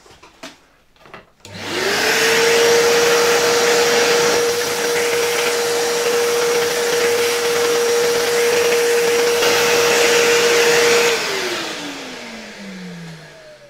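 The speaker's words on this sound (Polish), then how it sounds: "Wyczyśćmy też może te wnętrze odkurzaczem." A vacuum cleaner roars to life close up while cleaning the inside of a 1957 Famed U-4 fan heater, holding a loud steady whine for about nine seconds before switching off and winding down with a falling tone.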